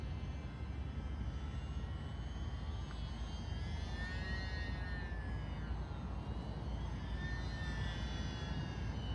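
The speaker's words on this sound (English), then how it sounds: "You could see 500mm Warbird, and it flies pretty slow." A UMX P-47 500mm electric RC warbird flying slowly outdoors in light wind, giving a steady whining motor drone that rises and falls in pitch as it passes, under constant wind noise.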